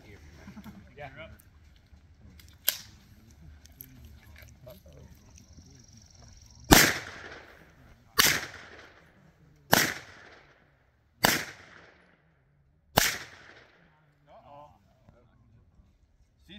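An AR rifle firing at an outdoor shooting range: five loud, sharp shots roughly a second and a half apart, each ringing out briefly, with a few fainter pops and people talking quietly before the volley.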